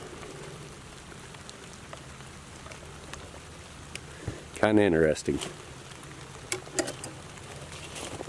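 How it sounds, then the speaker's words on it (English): Rain falling outdoors among trees, a soft steady patter with scattered drop taps throughout, while someone speaks briefly in the middle. "it's starting to rain pretty good"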